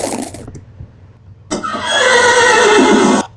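Horse from the Minecraft Mo' Creatures mod neighing in a game: a short burst of sound, a pause, then one long loud synthetic whinny rising sharply and sustained for nearly two seconds before cutting off.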